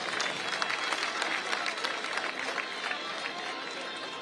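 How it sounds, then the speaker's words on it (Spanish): A crowd applauds at a women's cycling race prize ceremony in Durango, a faint but steady patter of many clapping hands filling the space with crowd noise. "El aplauso para Isabela Holmgren."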